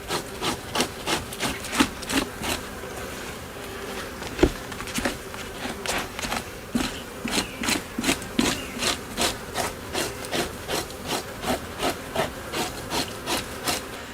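A hide being scraped on a fleshing beam, worked in strips down the side with the hair cushioning against the beam: steady, rhythmic rasping strokes repeat close up at a quick even pace, with no talking.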